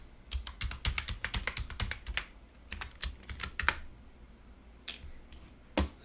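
Rapid bursts of close keystrokes on a computer keyboard as a password is typed, with clustered clicks, short pauses, and a few isolated taps near the end, with no talking.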